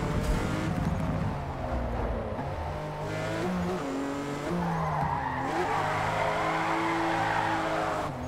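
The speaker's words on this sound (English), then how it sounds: "So we're gonna go full send with the M4 and see how a street car feels," A BMW M4 street car drifts in Forza Motorsport with squealing tires and a steady engine roar, the pitch climbing and dipping as the car slides through the corners.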